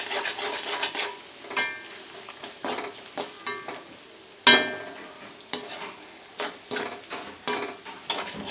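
Eggs and vegetables stir-fried in a pan, with a soft sizzle and repeated sharp scrapes and clinks of a spatula against metal coming at an irregular pace, close and fairly quiet.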